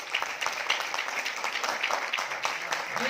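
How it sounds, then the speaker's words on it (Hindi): An audience at a plan launch meeting gives steady, moderately quiet applause, with dense overlapping claps and a murmur of voices underneath. "तो इसीलिए एक बार अपने आप के लिए जोरदार तालियां बजाइए।"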